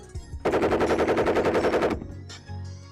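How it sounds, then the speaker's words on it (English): Loud automatic rifle fire from an AK-47, one sustained burst of about fifteen rapid, evenly spaced shots lasting roughly a second and a half, then fading echoes and a brief clatter afterward. "Robert E. Lee is in his camp writing a letter when he hears a loud automatic."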